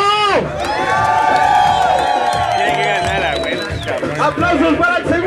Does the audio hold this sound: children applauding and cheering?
yes